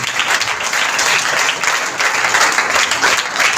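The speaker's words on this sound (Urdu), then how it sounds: "ایسے مددگار کے لیے زوردار تالی ہونی چاہیے." A congregation at a church service bursts into loud, sustained applause for the Holy Spirit, the dense clapping holding steady from start to end.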